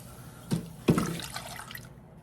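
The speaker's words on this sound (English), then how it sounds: "we are going to add in 1 cup of milk, and we are gonna stir and melt this together." Milk poured into a creamy chicken and rice casserole with melted processed cheese, then stirred: two splashy liquid glugs followed by a softer trickling, sloshing wash that fades out, close up and moderately loud.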